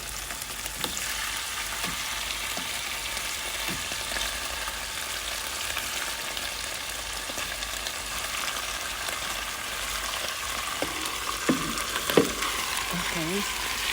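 Chicken sizzles steadily in a pan with sautéed ginger, garlic and onion. A continuous hissing fry runs throughout, broken by occasional stirring clatters and utensil taps, louder near the end.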